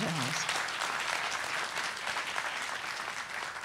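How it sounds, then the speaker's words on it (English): A crowd applauding steadily at a school's grand piano unveiling, a dense wash of clapping that holds at an even level, with a brief voice at the very start. "Can we give them a round of applause?"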